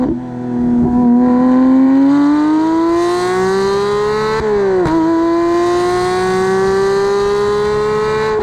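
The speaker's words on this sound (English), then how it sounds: "even just cruising, going through the gears, the sound is incredible" Porsche GT3 engine pulling strongly while cruising, revs climbing steadily and dropping sharply at a gear change, then rising again; loud, close and continuous with no talk.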